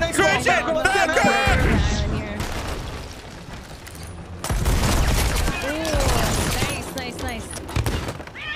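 Loud cannon blasts in Sea of Thieves naval combat during the Gauntlet event, several heavy booms a few seconds apart, mixed with players shouting over one another.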